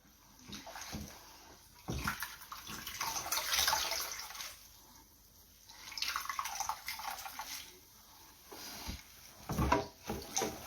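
Fumbwa leaves being washed by hand in a basin of water, with splashing, sloshing and dripping coming in uneven bursts close by and no talking.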